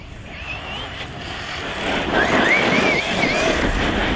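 A Team Magic E6 RC monster truck with a Leopard 4082 2000kv motor drives nearby, its electric motor whining and rising in pitch several times over a steady rumble of tyres and ground noise.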